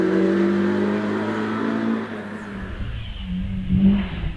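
A Nissan Micra rally car finishes its Prescott hillclimb run, its engine droning steadily, then easing and revving again as it passes close.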